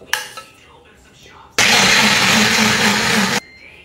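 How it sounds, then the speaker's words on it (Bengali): Kitchen blender whirring through boiled apple and oats for baby food, a loud steady motor roar starting abruptly after a few soft clicks and running nearly two seconds before cutting off. "এবার এটাকে এই যে আমি ব্লেন্ডারের মধ্যে নিয়ে নিচ্ছি।"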